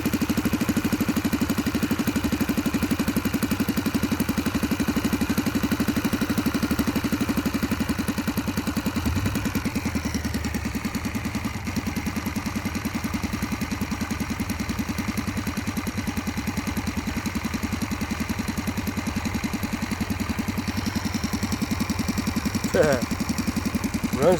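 A Saito FA-45 model four-stroke engine, recently revived after being seized, idles at low speed with a steady, even putter that holds for the whole stretch and sits close and clear.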